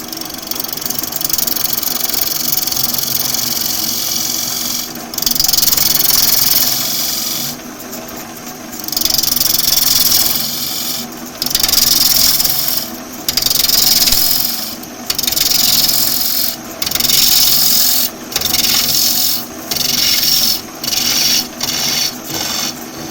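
A wood lathe runs at around 400 RPM during woodturning, giving a loud continuous mechanical hum and whir with repeated bursts of brighter scraping or cutting texture, steady and close, with no voices.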